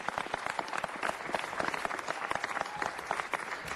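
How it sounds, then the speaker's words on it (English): Audience applause at a city council meeting, a dense, steady wash of many hands clapping close by, with faint voices mixed in throughout. "Let's give him a round of applause for saying that"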